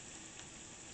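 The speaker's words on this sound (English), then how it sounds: "So now we're going to put in the garlic to saute it." Garlic sautéing in melted butter in a pan for chicken fettuccine Alfredo gives off a steady, close sizzle with a fine crackle, level the whole time, with no voices.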